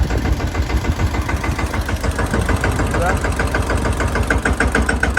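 A farm tractor engine runs steadily close by, a loud throbbing diesel chug with rapid regular pulses and a persistent rattle, continuous throughout the clip.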